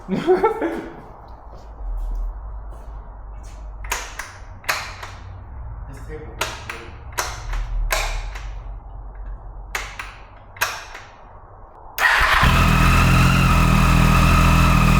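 A Triumph Daytona motorcycle engine cranks over and fires up on its first start after a water pump replacement, preceded by sharp clicks and knocks, then settles into a loud, steady close-up running roar.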